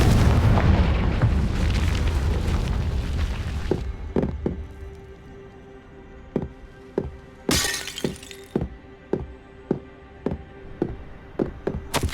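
In Hogwarts Legacy, a Confringo spell hits and bursts in a loud rumbling explosion with crashing debris. A bright shattering crack follows, then a run of sharp rhythmic impact thuds from the game, with no talking.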